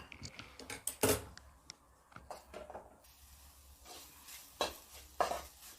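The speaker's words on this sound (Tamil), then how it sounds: "இதை ட்ரை ரோஸ்ட் பண்ணிக்கலாம்." Grated coconut dry roasting in a pan as a spoon stirs it, with quiet scraping and light clinks at an irregular pace, close and faint.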